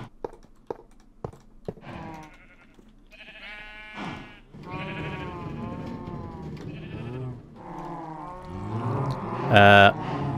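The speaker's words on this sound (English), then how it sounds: "pick up the animal, pick up the sheep or the pigs" Sheep in Minecraft let out a string of wavering bleats, several overlapping calls rising and falling up close after a few sharp clicks, with one louder, strained bleat near the end.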